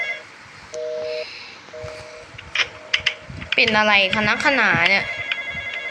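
A telephone rings inside the Roblox horror game The Intruder, with a steady electronic ring repeating over the first few seconds. Loud excited talk and exclaiming voices crowd in after that, partly burying the ringing.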